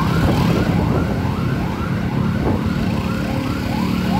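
A fire engine siren wails in repeated rising and falling sweeps on a Saturday morning street near Siloam MRCC hospital, with the truck's rumble and traffic noise beneath it, loud and steady throughout.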